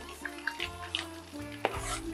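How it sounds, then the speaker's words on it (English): Onions dropped into hot oil and butter in a pan for spaghetti, giving a short burst of sizzling and stirring clatter, close and moderately loud, with a few brief clicks. "we got the oil and the butter going. So the first thing I'm gonna do is I'm going to add the onions."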